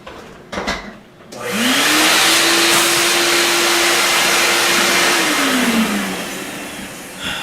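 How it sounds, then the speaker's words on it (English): A loud vacuum cleaner switches on after a few clicks and runs steadily with a droning whine, cleaning a workbench during a Martin guitar saddle adjustment, then slowly winds down near the end. "Vacuum the desk up."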